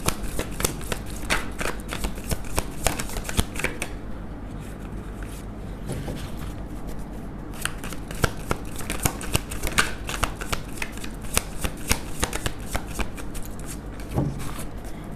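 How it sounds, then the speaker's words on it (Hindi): A deck of tarot cards is shuffled by hand over and over, giving dense riffling and flicking bursts with only brief pauses, close and fairly loud with no talking. "3 शफल करेंगे, जो भी कार्ड आएंगे उसे हम लेंगे"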